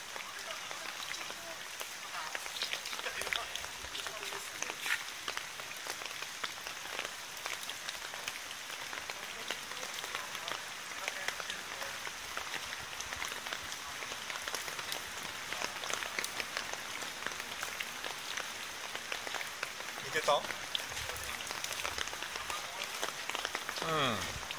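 Heavy rain pours steadily and densely on surrounding surfaces, a continuous hiss that holds strong throughout, with occasional louder spatters.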